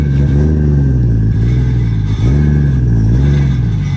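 Idling and revving Toyota 2JZ engine in a drift car, a loud close rumble that rises and falls in short blips with a steady underlying drone.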